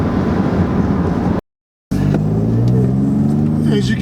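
A 2018 Ford F-150 pickup drives and accelerates, a steady engine rumble with rising revving, cut by a brief silent gap, heard from inside the cab.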